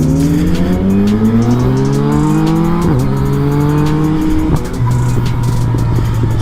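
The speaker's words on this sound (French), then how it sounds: "le passage de rapport à chaque fois quand ça pète" Motorcycle ridden hard on the German autobahn, engine revving loud and close with rising pitch that drops sharply at each gear shift, two or three shifts in quick succession.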